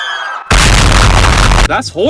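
Minecraft TNT blocks detonating in the game, a loud sustained blast roaring for about a second after a brief quieter lead-in, then cutting off into softer game sounds.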